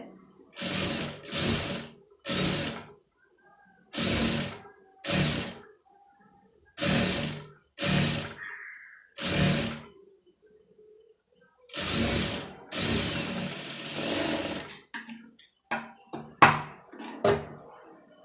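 A sewing machine stitches readymade piping in a series of short, even bursts of rapid mechanical chatter separated by brief pauses, close up and clear, ending with a few quick clicks and taps.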